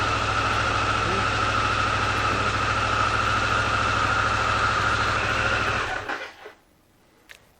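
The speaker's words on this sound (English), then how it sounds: "And then start the bike and let it run for about 10 seconds." A Harley-Davidson Pan America motorcycle engine idles steadily and close by during scheduled maintenance, a constant low rumble with a fixed hum that drops away abruptly near the end as the engine is shut off.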